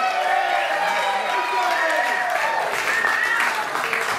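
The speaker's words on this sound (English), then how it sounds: "let's give them a round of applause as well." An audience at an induction ceremony applauds with steady, dense clapping and some cheering, close and continuous throughout, with no voice over it.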